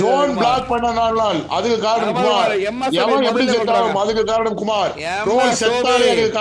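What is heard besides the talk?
No everyday noises stand out.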